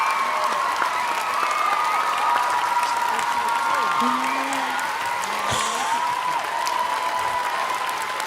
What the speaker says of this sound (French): j'aime trop mettre des sons de moi où je m'applaudis